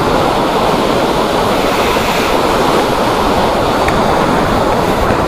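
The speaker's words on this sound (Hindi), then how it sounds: "मतलब वाटर का फ्लो इतना तेज है" Fast-flowing mountain stream water along the Srinagar to Kargil and Drass route in Ladakh, rushing in a loud, steady, unbroken roar close by, with no voices.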